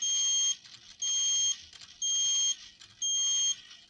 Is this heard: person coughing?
no